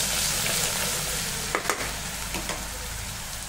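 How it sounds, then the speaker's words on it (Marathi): Masala frying in oil in a kadhai, a steady close sizzle with a few scraping stirs of a spoon midway, and no voices over it. "आता आपण मसाला टाकून घेऊ आणि छान फ्राय करून घेऊ।"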